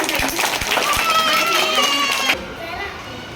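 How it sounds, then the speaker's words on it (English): Pre-primary children in a classroom clap for a classmate in a short burst of scattered claps mixed with chatter, then it breaks off abruptly. "Clap for him"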